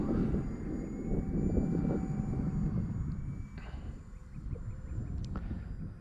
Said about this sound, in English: this plane here is de Havilland Otter